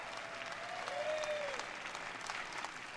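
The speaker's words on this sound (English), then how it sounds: "You hear the clapping?" Crowd clapping played as a sound effect during a fantasy tabletop game session, a steady distant wash of many hands, faint and even, with a brief gliding tone passing over it midway.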